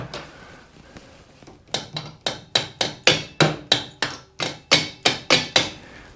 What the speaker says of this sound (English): usually a couple taps with a hammer should loosen that thing